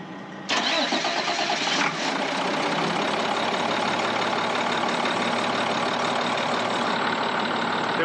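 A large diesel bus engine cranks and catches, then settles into a steady, rumbling idle that continues unchanged to the end.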